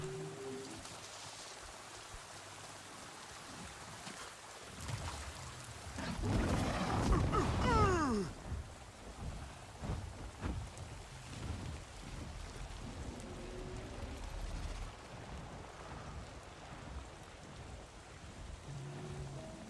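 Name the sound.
rain in video game Avatar: Frontiers of Pandora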